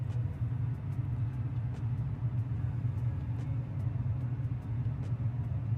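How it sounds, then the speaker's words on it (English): Steady, loud low-pitched rumble with airy roar inside the cockpit of an Airbus A20N as the landing gear is extended, continuous and even throughout with no voices. "Noisy with the gear, huh?"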